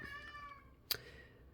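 A house cat meows indoors, a few thin drawn-out harmonic cries followed by a sharper short call near the end, fairly close but soft.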